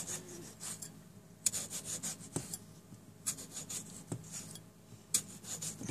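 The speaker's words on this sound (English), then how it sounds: "cutting these almost like fan, maybe a 1/4 of an inch apart, 3/4 of the way down through the potato" A knife cuts fan-like slits about a quarter inch apart into a potato, a series of soft scraping, rasping strokes with sharper crunches at intervals, close and quiet with no talking.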